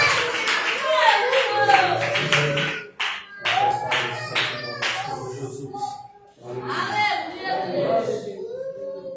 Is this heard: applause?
yes